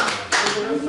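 Clapping from an audience at a village school lecture for a fishing-village revitalization project at Geumjin Port in Goheung, Korea, comes as a short, close burst of hands over a murmur of voices.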